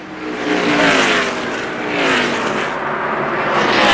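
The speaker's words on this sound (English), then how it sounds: "Here comes Dave Blaney in the yellow car, the 77." NASCAR stock cars roar past at speed on a one-mile oval during the 2002 Checker Auto Parts 500. Loud engine whines swell and fade in a few quick passes, with no commentary over them.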